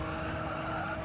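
Tyres squeal on a racing car in Gran Turismo 7, a continuous tonal screech layered over a roaring engine, steady and close throughout the short moment with no talk.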